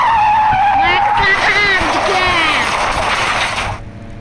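Car skidding into a crash, with a loud tire squeal and screeching slide followed by scraping impact noise, all close and intense before it cuts off abruptly.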